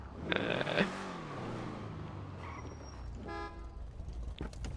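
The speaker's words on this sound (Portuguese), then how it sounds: "Aí, a buzina." Car horn honking in GTA V online, a short series of stacked tonal toots early on, then a later steady horn blast over background game ambience and engine noise, with a voice briefly in between.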